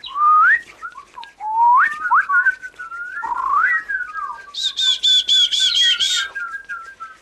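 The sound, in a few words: choir imitating bird calls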